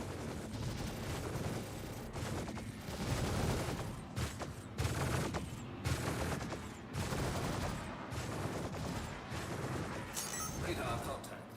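Rapid gunfire and explosions from a Star Citizen battle crackle in dense, continuous bursts, with a voice talking over the fighting.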